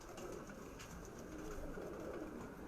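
Pigeons cooing softly inside a loft, a low continuous murmur of overlapping coos at moderate distance, steady throughout with no voices.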